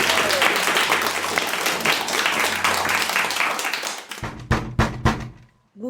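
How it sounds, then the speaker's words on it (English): Studio audience applauds in a dense, loud wash of clapping that runs steadily for about four seconds, then breaks into a few scattered, sharper claps before fading to near silence. "A round of applause, please, for Bec's big idea."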